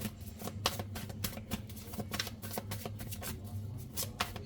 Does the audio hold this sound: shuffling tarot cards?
yes